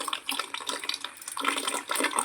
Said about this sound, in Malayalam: ക്യാനിലേക്ക് വെള്ളം വരുന്നത് കാണുന്നുണ്ട്.